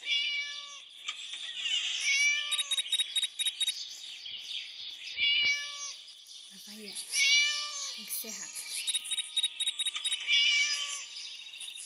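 Repeated whiny meows from a trapped cat in the video game Scary Teacher come in several long, insistent bursts, loud and close, with a voice speaking briefly between them.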